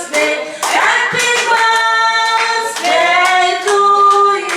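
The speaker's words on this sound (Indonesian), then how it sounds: "Tepuk tangan dulu." After a birthday song, a room full of people claps in applause, with cheerful voices and singing running over the steady clapping.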